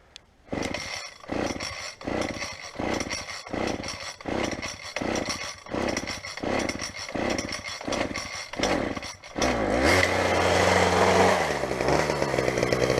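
A garbage-picked gas string trimmer's small two-stroke engine runs close by, revving in a steady pulsing rhythm that ends in a harder, continuous high-revving roar.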